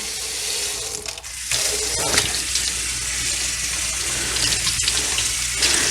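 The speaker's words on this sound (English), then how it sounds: "we're going to rinse them off in some water, under some water" Peas are rinsed under a running kitchen tap, a loud continuous gush of water with brief shifts as the stream hits them and splashes, close and steady with no talk.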